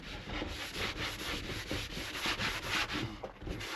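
Hand sanding of wooden boat cupboard parts, a rhythmic scratchy rubbing in quick regular back-and-forth strokes, close and moderately loud with no voices.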